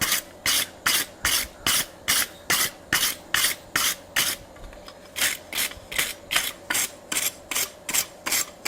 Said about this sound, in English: I'm going to brush some of the heavy scale off, the heavy forging scale off.